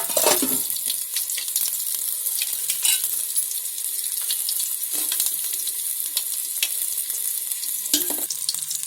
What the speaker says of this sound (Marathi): आता त्याच्यामध्ये आहे ना हिंग टाकायचा आहे